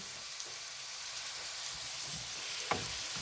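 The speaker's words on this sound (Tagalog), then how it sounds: "Ginisang papaya na may sardinas at saka luya" Papaya sautéed with sardines in a pan, giving a close, continuous sizzle with a few faint clinks from stirring.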